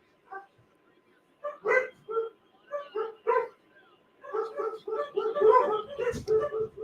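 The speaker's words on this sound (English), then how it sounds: "Now my dogs are going crazy because the Amazon guy is here." Several household bird dogs bark in excited bursts, a few sharp yips at first, then a dense, sustained run of overlapping barks, fairly close and loud, set off by a delivery driver arriving.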